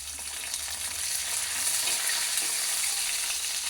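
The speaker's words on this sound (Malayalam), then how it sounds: "അടുത്തത് നമ്മൾ തേങ്ങാക്കൊത്തും കറിവേപ്പിലയും കൂടി ഇടുകയാണ്." Coconut pieces and curry leaves fry in a pan, giving a continuous, dense hiss and sizzle at close range that holds steady with no speech.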